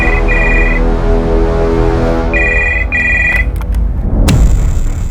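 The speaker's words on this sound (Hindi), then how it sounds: "जबलपुर इस प्रेरणा पाल को फोन करते हैं" A telephone rings in two loud electronic trilling bursts with a pause between them, over a steady music bed in a TV crime drama.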